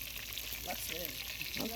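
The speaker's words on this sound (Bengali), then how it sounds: "আর মাংস ভাজার জন্য আমরা এখানে কড়াইটা বসিয়ে দিয়েছি, ফ্রাই প্যান। দেখেন ভাজা হচ্ছে।" Meat frying in a pan over a fire on a riverbank, a soft, steady sizzle throughout, heard faintly beneath someone talking.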